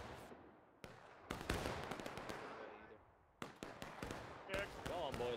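Cannon artillery fire in War of Rights, a Civil War game on the Bloody Lane map: several sharp booms and bursts, some distant, others nearer and louder, scattered across the battle noise with voices talking between them.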